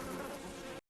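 Steady, close buzzing of bees in an animated story, holding at an even level for most of a second before cutting off abruptly.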